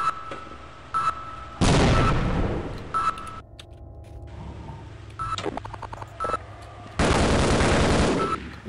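Sentry turrets in the Half-Life video game fire in two loud automatic bursts, with beeping and shorter mechanical sounds between them and no talk.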